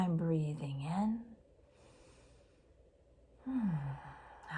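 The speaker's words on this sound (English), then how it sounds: "I'm aware I'm breathing in." A slow, deep in-breath taken during a guided breathing exercise comes as a long, soft, airy rush, close and steady. It sits between voiced, sigh-like sounds at the start and end.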